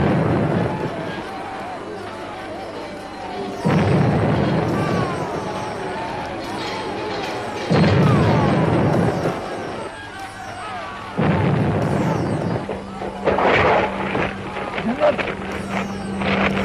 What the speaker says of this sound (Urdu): توپوں کی گھن گرج